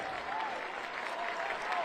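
Crowd applause and cheering rise from the stands at a high school football game between Harrisburg and State College, a steady, dense roar heard from a distance.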